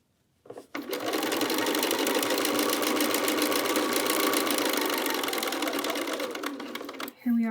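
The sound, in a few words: sewing machine stitching quilted jacket binding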